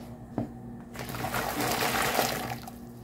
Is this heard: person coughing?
no